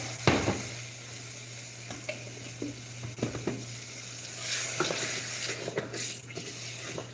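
Curry sauce sizzles and hisses steadily in a hot frying pan, a close, continuous crackle with occasional stirring scrapes and clinks.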